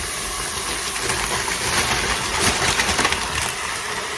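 Beef hits the hot surface of a Cosori 5.7 litre pressure cooker to brown for a stew, giving off a broad, steady hiss and crackle up close, with a few louder sputters partway through.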